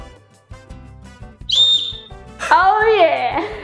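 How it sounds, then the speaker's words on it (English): Short melodic tones at first, then a shrill whistle blast, followed by a louder, wavering whistle that bends in pitch. "blow your whistle, blow your whistle."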